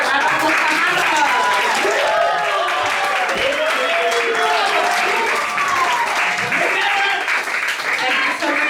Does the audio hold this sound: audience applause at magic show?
yes